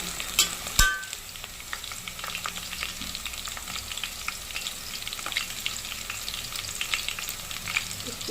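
Ginger garlic paste fries in a pan with a steady close crackle and sizzle, a sharp clink of a utensil near the start and ongoing stirring, no voices.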